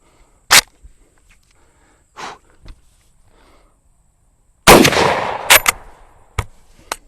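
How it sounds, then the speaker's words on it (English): Carbine rifle fired outdoors in a quick string of sharp, loud reports, spaced irregularly with quiet gaps between them, the later shots closer together. "So I'm going to try to shoot these last 3 rounds kind of fast, and we'll see."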